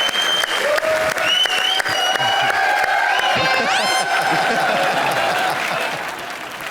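Enthusiastic applause from a studio audience on a Hindi TV comedy show, loud and sustained with some cheering, while a voice and musical tones ring over the clapping before it eases off near the end.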